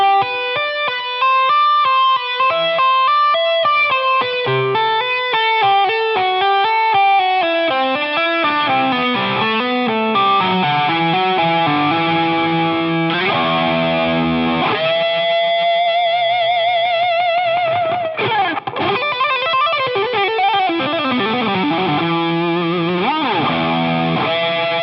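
Heavily distorted electric guitar plays a smooth legato phrase at a slow, deliberate pace, notes sliding and sustaining with echo, continuous and loud.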